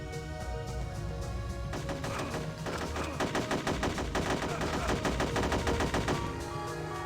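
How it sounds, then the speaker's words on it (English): Enemies fire at the player in the video game Hitman: Codename 47, with sustained rapid automatic gunfire in loud, dense bursts that run nearly continuously, with no talking. "they're shooting at me"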